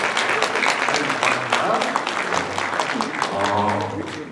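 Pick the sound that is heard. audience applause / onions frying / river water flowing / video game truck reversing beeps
audience applause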